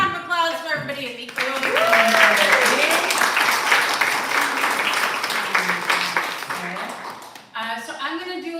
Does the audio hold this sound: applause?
yes